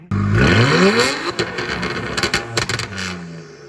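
An N54 engine swapped into a 2011 BMW 328xi wagon revs briefly and sharply, the note rising then falling away into a low idle, close and loud with some clattering.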